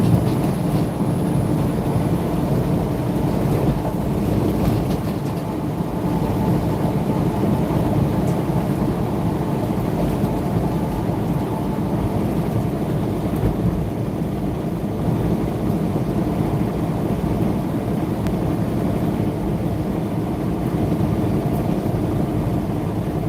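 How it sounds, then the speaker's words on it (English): Inside a big-turbo truck cab at highway speed, a steady, loud low rumble with a broad airy roar runs throughout without letting up, the turbo sound blending into the engine drone. "That turbo spooling up there"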